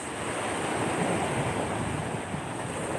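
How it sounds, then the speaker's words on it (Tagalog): Rough monsoon sea surf along a Philippine shoreline: a continuous, loud roar of crashing waves mixed with wind buffeting the microphone, with no break in the noise. "Medyo ano ang dagat natin ngayon, nagwawala."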